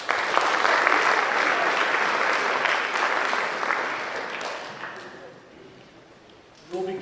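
Audience applause at a high school senior awards night: dense, sustained clapping from a large crowd that holds steady for several seconds, then thins and fades out, with a brief burst of other sound at the very end.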